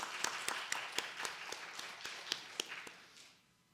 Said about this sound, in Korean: 선한 마음으로 식사를 대접해 주신 우리 전두수 권사님과 박호자 집사님을 향해서 박수 한번 칠 수 있었으면 좋겠습니다.